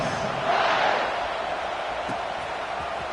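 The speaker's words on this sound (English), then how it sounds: "this crowd is feeling themselves after that last drive" Football stadium crowd roaring after a long scoring drive, a broad, loud wash of cheering that swells early and then holds steady as a sustained distant-sounding rumble.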